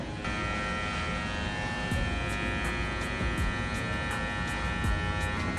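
An electric hair clipper runs steadily and close throughout while cutting a low fade, giving a constant buzzing hum with faint rhythmic ticks as the blade's corner works along the hairline.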